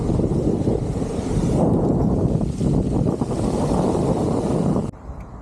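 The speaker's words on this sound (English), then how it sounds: "Just the zooming of the wheels." Veymax electric skateboard wheels rolling over pavement with the motors silent, a steady close rushing roar broken by wind buffeting that cuts off abruptly near the end.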